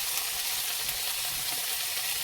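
Green beans sizzling and frying in a hot pan, a steady dense crackle with no pauses, close and fairly loud throughout.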